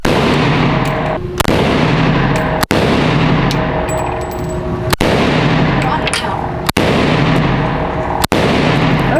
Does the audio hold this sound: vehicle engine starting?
no